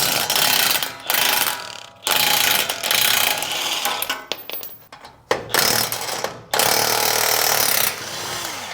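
Loosening the lower ball joint bolts on a Toyota Tacoma's front suspension: a ratchet clicks in rapid bursts with brief pauses, loud and close, then clattering metal handling.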